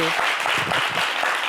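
An audience on a French-language program applauds in a dense, continuous wash of clapping, with a voice speaking briefly over it.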